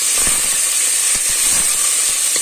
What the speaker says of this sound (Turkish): biberini biraz kavuracağım